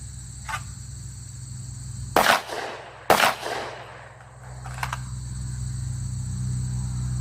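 Two sharp gunshots from an FN 510 Tactical 10mm pistol, fired about a second apart at close range, each with a short ringing tail over steady outdoor insect chirping.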